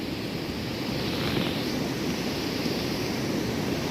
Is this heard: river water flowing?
yes